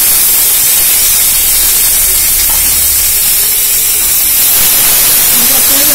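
Cluster beans dropped into a hot pan with oil set up a loud, steady sizzling hiss that fills the whole stretch without a break.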